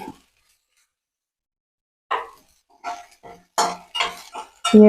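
Grated coconut sautéed in a pan for chutney, with a metal spoon scraping and clinking against the pan in short bursts after a quiet start, close and fairly loud.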